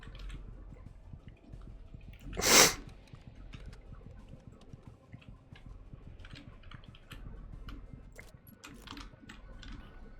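One short, sharp sneeze bursts out close and loud, over faint scattered keyboard clicks that continue before and after it.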